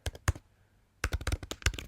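Fingers type on a computer keyboard during a web account signup, a short burst of clicky keystrokes, a pause, then a faster run of taps, close and crisp.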